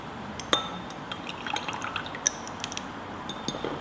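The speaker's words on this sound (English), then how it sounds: "If you were to throw the liquid away into a beaker," Sugar solution from a potato osmosis experiment is poured out into a glass beaker, giving a soft steady trickle broken by several sharp glassy clinks, close and quiet.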